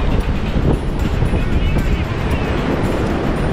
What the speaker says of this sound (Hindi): इतनी प्यारी हवा चल रही है